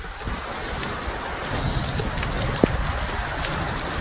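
Steady rain patters and hisses outdoors in a soft continuous wash, with one brief sharp click partway through.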